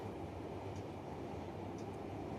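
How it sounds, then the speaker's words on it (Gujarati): A Surat metro train on a trial run on a newly built elevated viaduct rumbles steadily and fairly faintly at a distance, with a continuous low rolling drone and a couple of faint high squeals. "આ નિર્ધારિત લંબાઈમાં મેટ્રો ટ્રેનનું ટ્રાયલ રન શરૂ કરવામાં આવ્યું છે"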